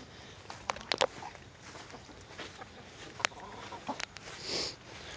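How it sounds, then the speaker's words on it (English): Quiet, scattered clucks and short squawks from chickens nearby, irregular and soft against a faint outdoor background. "Look at these chickens"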